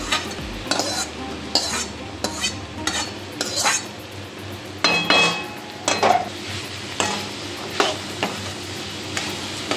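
Fried cashews, raisins and coconut being stirred into a pumpkin curry in a pan, with repeated scraping strokes of a spoon against metal over a soft sizzle, steady and close.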